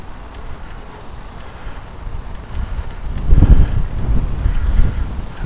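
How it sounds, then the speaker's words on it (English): Wind buffets the microphone during an outdoor ride, a low rumbling roar that gusts harder and louder toward the end, with no voices. "That wind again."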